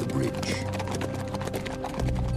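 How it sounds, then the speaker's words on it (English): Horses gallop as fleeing Shaolin monks ride stolen mounts out of a walled city toward a bridge. Steady, dense hoofbeats run the whole time beneath a loud, full backing of music or voice. "With Li Shimin, they broke out of the city and rode for the bridge."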